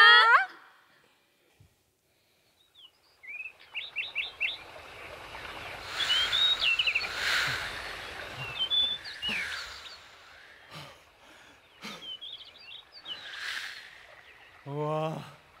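Bird-like chirps and warbling whistles, probably produced on stage for a children's family musical, come in short bursts at the start and middle over a wash of stage and hall noise.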